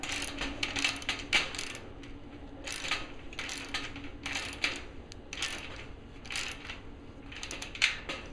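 A threaded bolt is run in by hand on a Northern Tool jumbo wagon, giving repeated small metallic ratcheting clicks and scrapes in irregular bursts throughout, close and moderately quiet with no talking.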